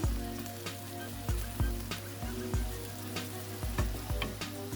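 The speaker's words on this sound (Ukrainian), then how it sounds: "дивіться, як воно гарно пережарюється з часничком разом" Meat and garlic fry in a pan under a constant crackling sizzle, while a utensil scrapes and stirs in regular strokes roughly every half second, close and clear.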